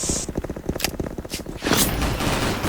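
Rapid automatic fire from the Poseidon Kriss submachine gun in the online shooter Special Force, a dense rattling burst of quick shots followed by a louder sustained volley, close and loud with no talk.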